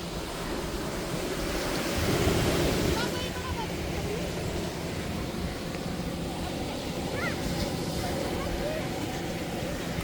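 Ocean waves wash onto the sandy beach at Fort Kochi, Kerala, as a steady broad surf roar with wind buffeting the microphone and one swell building louder early on.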